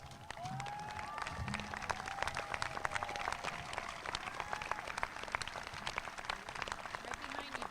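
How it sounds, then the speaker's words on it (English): At a 2016 Ardsley high school graduation ceremony, graduates give standing alumni a round of applause: crisp, scattered clapping from a large crowd with some cheering and a few whistles, moderately distant. "Would all Ardsley alumni please stand so that our graduates can give you a round of applause?"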